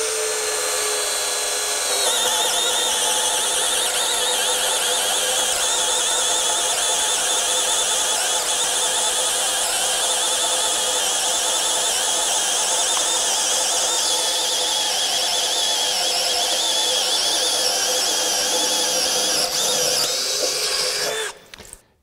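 A Metabo HPT 18-volt cordless drill bores a hole in wood, a high whining, squealing spin that starts after a brief lead-in, holds steadily loud for about twenty seconds, then winds down abruptly.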